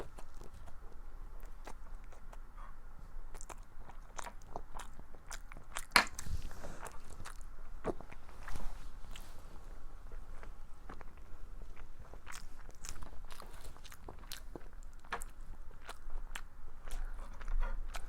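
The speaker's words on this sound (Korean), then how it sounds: "김치볶음밥을 자자 한번 먹어볼까?" Someone eating kimchi fried rice at a table, with soft chewing and the occasional sharp click of a spoon against a dish, close and quiet, with no talking.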